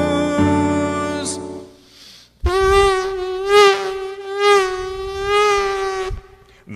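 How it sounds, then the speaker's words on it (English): A Culex mosquito's buzzing wing whine, a sustained, close, nasal drone that swells and fades in pitch and loudness across several passes, with a brief gap of near-silence partway through and no talking. "She buzzes, attracting the male mosquitoes"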